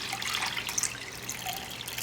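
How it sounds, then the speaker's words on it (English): Water pours steadily onto a kitchen scale for sourdough pizza dough, a continuous bright splashing trickle heard close up. "I'm just going to take 600 grams of water."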